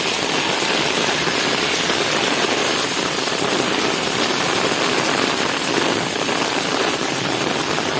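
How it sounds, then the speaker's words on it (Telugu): Heavy rain pours down in Hyderabad as a dense, steady hiss of broadband noise, loud and unbroken throughout, with no voices and no distinct drops standing out. "హైదరాబాద్లో వర్షం భారీగా కొడుతుంది"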